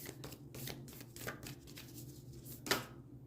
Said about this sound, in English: cards are hard to shuffle because they're shaped like hearts